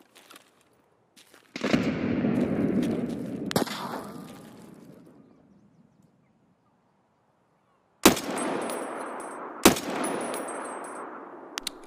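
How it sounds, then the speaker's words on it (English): Gunfire in the video game Escape From Tarkov, a sustained loud burst of rapid shots with echoing decay, then two sharp louder shots with ringing tails near the end. "was he shooting me or somebody else?"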